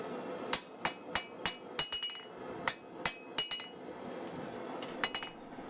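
A blacksmith hammers a steel bar to work out a notch while forging a sgian dubh, giving about fifteen sharp, ringing metallic strikes in uneven bursts with short pauses over a quiet background.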